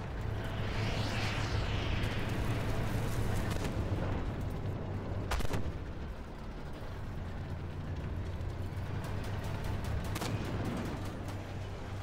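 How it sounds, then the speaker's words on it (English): Tank fire in a video game, with repeated booming cannon shots and bursts of 20 or 30 millimetre autocannon fire over a continuous low engine rumble, loud and close. "something back behind me is shooting me with 20 or 30 millimeter"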